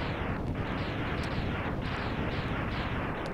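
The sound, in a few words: enemy explosions in the video game Mega Man X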